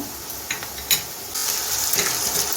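Ginger and garlic fry with browned onion in a pan, a soft hiss that swells into a steadier sizzle partway through, broken by a couple of clattering stirs.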